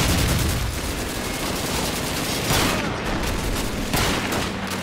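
Continuous loud gunfire aimed at a barrel in Call of Duty 2, fast overlapping shots forming a steady roar with a couple of heavier bursts near the middle and end.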